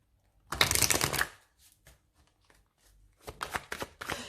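Oracle cards from a mirror oracle deck are shuffled up close in two bursts: a dense riffling rush first, then after a pause a series of quicker snapping flicks, with no one talking.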